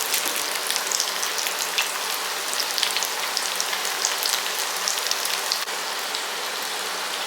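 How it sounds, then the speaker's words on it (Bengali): Breadcrumb-coated chicken drumsticks, dipped in beaten egg, fry in oil over medium-low flame, making a dense, steady crackle of fine popping bubbles close by. "মিডিয়াম টু লো ফ্লেমে অবশ্যই এটাকে ভাজতে হবে।"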